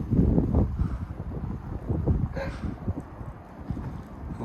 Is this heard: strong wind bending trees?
yes